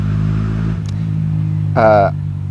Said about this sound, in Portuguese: Tá passando uma moto, gente